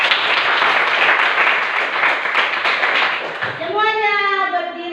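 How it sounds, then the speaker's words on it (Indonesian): A classroom bursts into dense, loud applause from children for about three and a half seconds before it stops and an adult voice begins speaking. "tepuk tangan untuk kita semua dulu."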